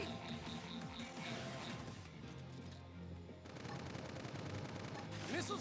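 Missile volleys and rapid gunfire from Xenoblade Chronicles X: Definitive Edition, with dense overlapping blasts and bursts continuing loud throughout, broken by a short quieter stretch in the middle, over game music.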